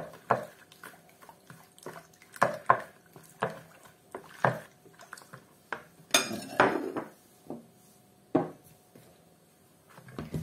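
A yeast dough mixture with fresh yeast stirred in a bowl, with a utensil knocking and scraping against the sides in irregular, close clinks and taps, some louder strikes, and no talking.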